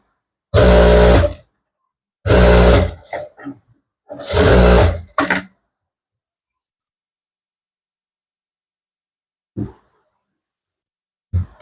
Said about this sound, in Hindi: अब इसको यहां से डायरेक्ट सिलाई लगा दो।